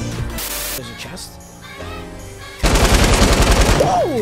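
Light machine gun fire in Fortnite gameplay, a loud dense burst of rapid shots after a stretch of quieter game sounds, with no talking.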